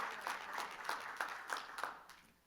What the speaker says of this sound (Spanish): Dele fuerte el aplauso a Él.